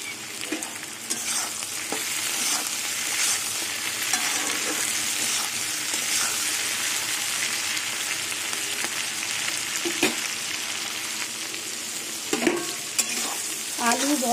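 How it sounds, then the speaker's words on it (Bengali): Potatoes, green beans and onions fry in a pan for a fish curry, a steady close sizzle running throughout with repeated scraping stirs and occasional clinks, no voices. "আলু বরবটি আর পেঁয়াজ ভালো করে ভাজা হয়ে গেছে।"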